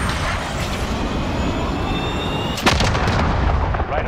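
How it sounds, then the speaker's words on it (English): Cruise missile launch and impact in a military video game: a continuous roaring rush of engine noise and wind, then a sudden heavy blast past the midpoint that rolls on loudly to the end. "Cruise missile, go for launch."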